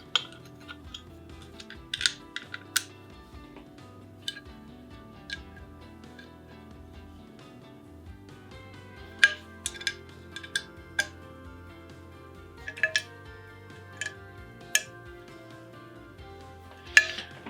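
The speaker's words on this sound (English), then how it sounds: "now we can grab our Allen key and tighten everything up" An Allen key turns screws on a Sim Lab Vario VESA monitor mount, making sparse sharp metallic ticks and clinks at irregular intervals over a quiet background, close by and with no talking.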